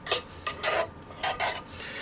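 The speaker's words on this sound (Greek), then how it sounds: "Ανακατεύω." Spices such as thyme and smoked paprika being stirred in a bowl, several short scraping rubs of a spoon in quick succession, close and clear with no talking.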